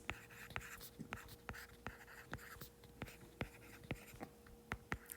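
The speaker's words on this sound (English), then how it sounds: "I'm going to write them all with 30s" Pen or pencil tapping and scratching out numbers by hand on paper, a steady run of quick close strokes with a faint hum beneath and no talking.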